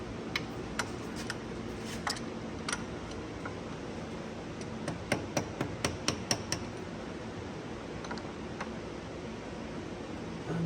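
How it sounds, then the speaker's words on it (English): Several sharp metallic taps from a hammer striking an extension and socket to seat a gasket into a 2014 Chevy Silverado 6L80 transmission, scattered and then clustered mid-clip, moderately close over steady shop background noise. "took this extension with this hammer and I lined it up and I was able to tap that gasket into there"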